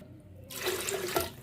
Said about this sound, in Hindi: इसमें हम 2 गिलास पानी का डालेंगे।